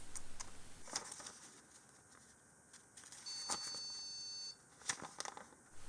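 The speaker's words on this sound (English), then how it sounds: "Seems to be a constant beep." Electronic beeps sound from a Soyo SY-025R 486 computer mainboard, a long steady tone in the middle with a few short clicks and taps around it, against quiet background hiss.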